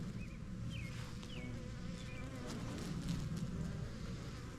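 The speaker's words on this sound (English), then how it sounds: "Most of the bees here you're seeing, the bigger bees, are carpenter bees." Carpenter bees buzz continuously at close range while working mountain mint flowers in a permaculture garden, a steady low drone with faint bird chirps above it.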